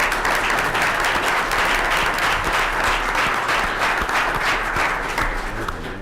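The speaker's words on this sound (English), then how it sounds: "Yeah, give a clap." At a city council meeting, the audience gives dense, sustained applause for a Waukegan Proud Award recipient, loud and steady throughout, with a few individual claps popping out nearby.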